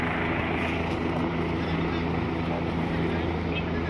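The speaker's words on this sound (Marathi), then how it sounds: "हे आमच्या खाली हेलिकॉप्टर आहे ती." A helicopter flies below a high mountain viewpoint on the Kedarnath pilgrimage route, producing a constant, fairly loud rotor and engine drone that holds steady without pause.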